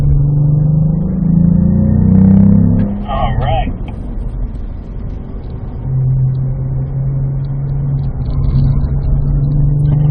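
Cadillac V-Performance car engine revving and accelerating hard on a race track, a loud rumbling roar recorded from inside the cabin, easing off midway then building again, with a brief spoken remark over it.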